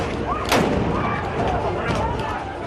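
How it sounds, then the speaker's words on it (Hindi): During a street protest in Mumbai, a single sharp blast from an explosion or a fired tear gas shell cracks out near the start, followed by a rumbling wash of crowd and street noise. "वो इलाका धमाके की आवाज से गूंज रहा था। आंसू गैस के गोले छोड़े जा रहे थे।"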